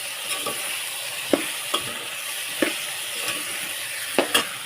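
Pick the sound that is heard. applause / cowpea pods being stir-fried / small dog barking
cowpea pods being stir-fried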